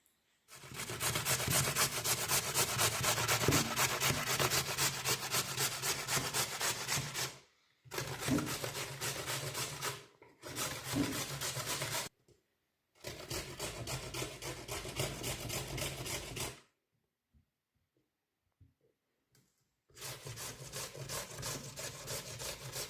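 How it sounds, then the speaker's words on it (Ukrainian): Raw potatoes are rubbed across the coarse side of a large kitchen grater in long runs of quick, rasping strokes, close and clear, with short pauses between bursts and no talking. "на великій терці буду натирати картоплю"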